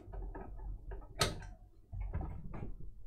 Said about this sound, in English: I'll lob a couple of screws in the back just to hold this in place for a sec.